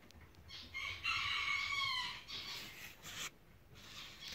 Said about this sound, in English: Yes, that is a hen.